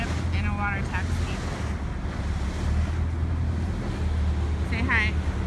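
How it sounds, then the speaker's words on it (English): Water taxi ride out to a cruise ship, with a steady low engine drone under continuous wind and water rush, plus a couple of faint squeaky bursts. "Here we are on our way to our cruise ship in a water taxi."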